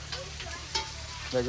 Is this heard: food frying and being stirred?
yes